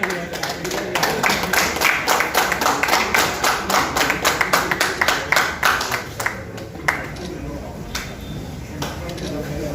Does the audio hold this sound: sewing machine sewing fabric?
no